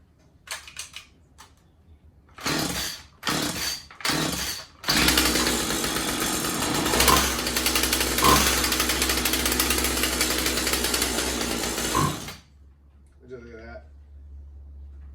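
A Husqvarna 36 chainsaw with freshly replaced fuel lines and an adjusted carburettor: several short pull-start bursts, then the engine catches and runs loudly at a steady, buzzing rev for about seven seconds before cutting out, with someone speaking afterward.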